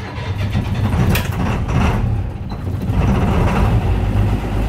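A 1988 Blue Bird International S1800 school bus engine being cranked on a cold start, a loud continuous rumbling churn that holds steady for several seconds without catching cleanly, no talking.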